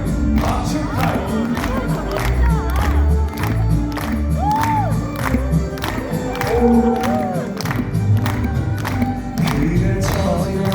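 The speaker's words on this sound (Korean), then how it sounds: "박수 타임." A church congregation claps along in rhythm at a lively gathering, the even beats running under singing, shouting and crowd voices throughout.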